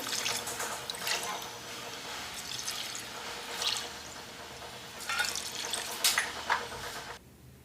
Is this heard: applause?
no